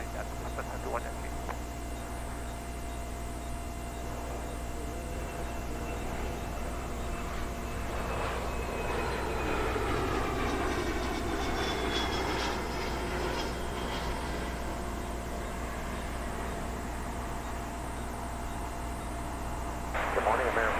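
A small private plane lands on runway 09 left at London Heathrow, its engine drone rising and fading in the distance beneath a constant hum and radio chatter.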